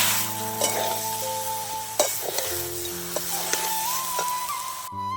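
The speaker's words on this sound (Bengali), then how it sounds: "আমি গুড় দিয়ে এবার নাড়তে থাকি।" Elephant apple pieces and jaggery are stirred in a sizzling frying pan, with steady close frying hiss and several sharp scrapes and knocks of the spoon against the pan.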